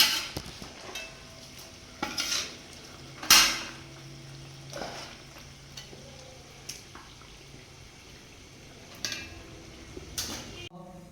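A metal ladle scoops fried chicken out of hot cooking oil into a vessel, giving a handful of sharp, scattered clinks and scrapes against the pan over a low, faint kitchen background.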